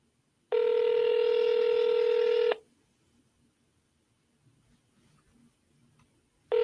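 A telephone line gives a loud two-second electronic tone, then falls quiet, and a second tone starts at the end, sounding like a phone call being placed.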